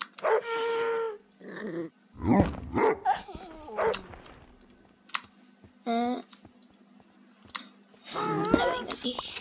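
A Minecraft wolf barks and growls in short bursts amid keyboard typing and mouse clicks, with someone talking excitedly over it.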